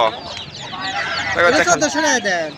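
Desi chickens cluck and squawk nearby amid a busy village market, with people talking over them throughout.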